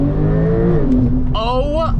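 A 2023 Porsche 992 Turbo S engine pulls hard on a road drive, a steady close drone with a brief rising whine near the end, under a voice exclaiming.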